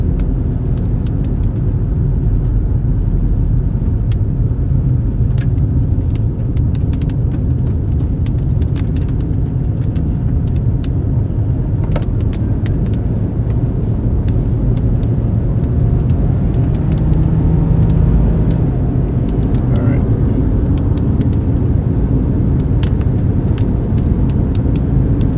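Steady road traffic rumbles close by as cars sit in the middle of a road near Goodland, Kansas, during storm chasing, a continuous low engine drone with passing vehicle swells and no talking.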